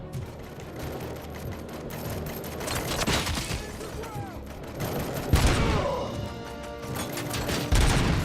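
Rapid AK-47 gunfire in the RoboCop: Rogue City video game, sustained bursts with crashes and shattering mixed in, moderately loud and steady throughout.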